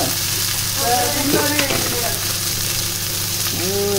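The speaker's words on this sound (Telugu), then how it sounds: "ఒక పక్క ఫిష్ ఫ్రై అవుతుంది" Fish frying in a pan in a home kitchen gives a constant crackling sizzle, with faint voices briefly in the background.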